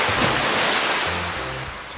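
Cartoon pool water surges in a loud, broad rushing splash as a character jumps into a swimming pool, fading slowly over two seconds while low voiced tones sound briefly underneath.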